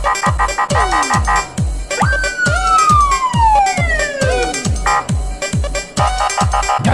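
A police siren wails in a video game, rising and falling in long sweeping tones over a fast, pounding rhythmic beat that fills the whole stretch, loud and close with no speech.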